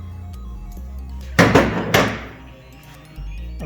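A door swings shut with a sharp thunk as the latch catches, followed by a second, softer knock a half-second later, close and fairly loud against a quiet room hum.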